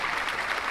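Brief burst of dense clapping applause at the end of a livestream, steady and fairly loud with no pauses.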